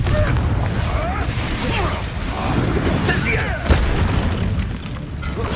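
A Confringo blasting curse detonates in the Hogwarts Legacy video game, a booming explosion with crackling bursts amid a busy, noisy combat soundscape.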